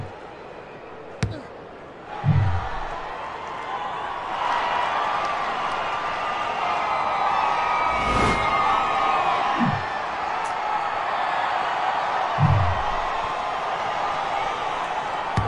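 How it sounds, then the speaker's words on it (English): Steady excited crowd buzz fills a rugby stadium during a Northern Rhinos versus Southern Bears match, a continuous murmur with a few sharper cheers and thumps rising out of it. "There's a real excited buzz around the crowd here."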